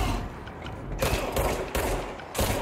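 Bursts of gunfire in the Control video game, aimed at enemies' heads, with several loud volleys in quick succession and quieter mechanical clatter between them.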